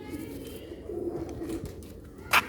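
Pure Chuhe Sialkoti pigeons cooing softly and intermittently up close, with a brief sharp knock or flutter near the end and some faint background murmur.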